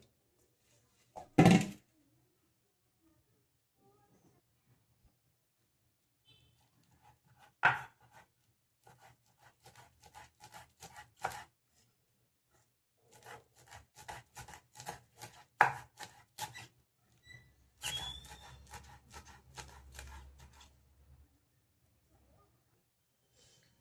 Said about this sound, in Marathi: आपण ही पानं चिरून घेणार आहोत